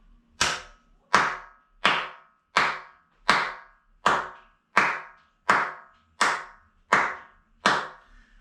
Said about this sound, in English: we're going to do a clap test now